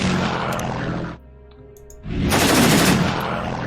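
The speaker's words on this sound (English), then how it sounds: "Strafe them with the fighter." Rapid bursts of fighter-plane strafing gunfire in the video game Operation Citadel, dense and loud, broken by a brief near-silent gap before a second heavy burst.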